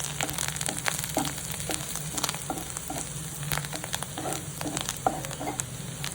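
Kurdali vegetable sautéing with turmeric, red chili and goda masala in a pan, a continuous crackling sizzle with frequent sharp spatula scrapes and clicks, close and moderately quiet.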